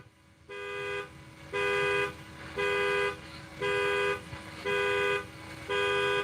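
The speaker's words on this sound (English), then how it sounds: "Somebody's panic button's going off." A car alarm set off by a panic button blares nearby in a rhythmic series of loud horn honks, about one per second, with pauses between them, heard from inside a delivery car.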